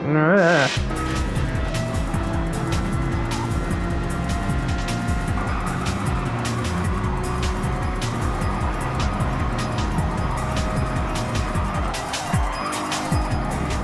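Race cars roar steadily in a racing video game as tires squeal and skid through a collision on the track, with engine drone continuous throughout and a brief thump near the end.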